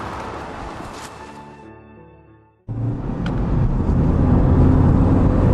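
A car driving along the A283 road near Pulborough heading toward Stopham, with a steady engine and road rumble that fades briefly, then returns louder and fuller, close and continuous.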